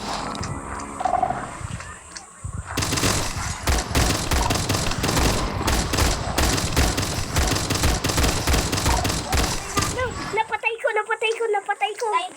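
Rapid bursts of gunfire from guns in a video game while two players fight the warden, dense and loud for most of the stretch with game roars mixed in, ending in quieter scattered sounds.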